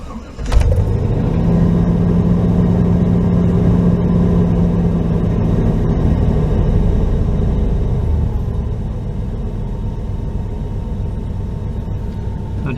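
A 1996 Chevrolet Tahoe engine idles in gear with the transmission engaged, starting with a sharp clunk and then holding a loud steady rumble that eases slightly in level partway through.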